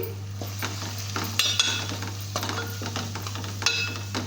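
Spiced chilli masala with salt being stirred in a frying pan, a spoon scraping and clinking against the metal over a steady low sizzle, with a faint hum underneath.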